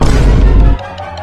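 A Diwali firecracker bursts with a loud, close boom that rumbles for under a second, then cuts off to quiet, with no voices over it.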